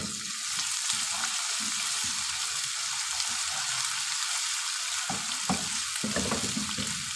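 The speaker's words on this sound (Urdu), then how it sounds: "ادرک لہسن سبز مرچ ہلکی جی فرائی کرنی ہے نال زیادہ نہیں" A paste of ginger, garlic and green chili sizzles with onions in a pan for a dhaba-style mixed vegetable dish. The frying hiss is steady and close, with a few stirring scrapes and no voices.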